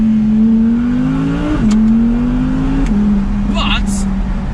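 Steady 2019 Audi R8 V10 Performance engine drone with muffled exhaust note, shifting pitch as gears change, heard from inside the cabin with windows down and a slight rasp, continuous and moderately loud.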